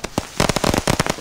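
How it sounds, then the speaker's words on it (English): A rapid burst of video game fireworks in Insurgency crackling and popping, many sharp bangs in quick irregular succession, loud and close. "Ooh, pretty. Fireworks."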